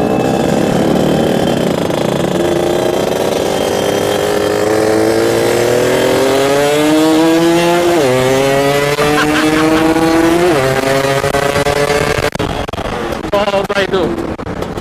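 A Yamaha F1Z-R motorcycle with a ported engine and racing gear ratio revs up hard and close, pitch climbing through the gears with shifts marked by brief dips, under a rider's intermittent talk.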